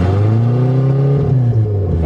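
A 1992 Nissan engine runs loud and close, its revs climbing and holding in a rough, steady drone with a brief dip near the end; no talking.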